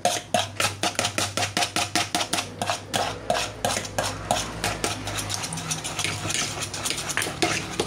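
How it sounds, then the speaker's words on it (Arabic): Cupcake batter being stirred briskly in a bowl, a quick, regular run of scraping clinks from the utensil against the bowl, close and fairly loud, gradually softening toward the end. "نخلط هادشي مزيان"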